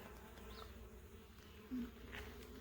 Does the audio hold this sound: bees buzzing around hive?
yes